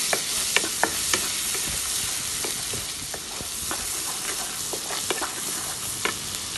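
Onion and garlic fry over a high flame for coq au vin, a steady loud sizzle with scattered sharp crackles and spoon scrapes throughout.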